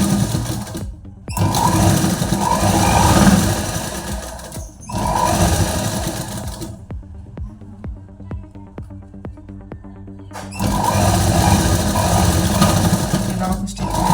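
A sewing machine stitches the seam of a small doll's dress, its rapid mechanical chatter running in loud stretches broken by a quieter pause with light clicking.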